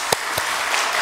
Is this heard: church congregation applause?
yes